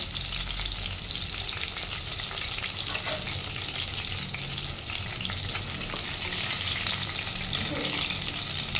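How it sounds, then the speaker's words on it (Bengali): Fish heads fry in hot oil in a pan with a continuous, busy sizzle and crackle, steady and fairly close throughout with a faint watery undertone. "মাছগুলো আমার ভালো মতো ফ্রাই হয়ে গেছে, মানে মাছের মাথাগুলো।"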